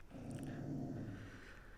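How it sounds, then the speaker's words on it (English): A pet dog named Piper somewhere in the background during a Land Cruiser speaker upgrade, giving a faint, low growl-like whine that lasts about a second and a half. "My dog's in the background."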